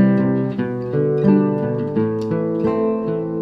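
Solo guitar picks out a bass line under chords, with clear plucked notes in a moderate, steady rhythm, close and alone with no talk.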